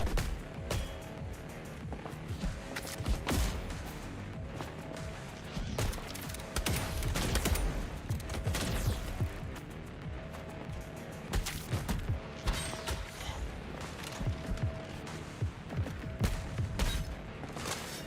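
Rapid gunfire bursts and heavy shots fill a video game firefight, loud and continuous with recurring volleys and booming impacts throughout.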